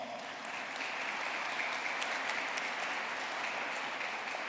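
A university business school commencement audience applauds in a steady wash of clapping that holds evenly for the whole stretch, fairly distant and moderate in level, with no speech over it.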